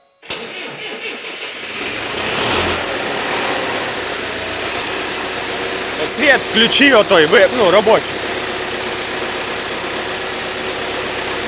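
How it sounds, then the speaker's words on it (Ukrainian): A tractor diesel engine idles steadily in winter with a low continuous rumble, while a voice speaks briefly over it partway through. "Чуємо роботу двигуна."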